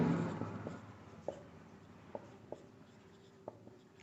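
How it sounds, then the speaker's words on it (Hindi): Pen strokes writing out a class 10 maths solution, a quiet scratching trace punctuated by several light taps and clicks spread across a few seconds, close by with no talk. "तो यहां पर लिखेंगे जैकब की आयु"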